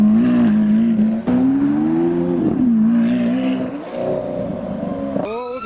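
Lamborghini Huracan and Aventador S supercars rev their engines at a car show, a loud, close engine roar that climbs and falls in pitch. A sharp higher rev rises near the end, with no talking over it.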